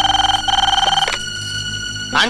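A telephone rings on a call placed to a house: a loud, steady electronic ringing tone pulsing rapidly for about a second, then a short trailing burst, heard alone without talk.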